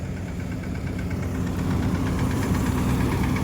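A tractor engine runs in a groundnut field at harvest, a close, steady, knocking chug that swells slightly and continues alone without any voices.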